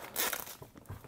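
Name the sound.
blade cutting plastic wrap on Xiaomi Mi 9 box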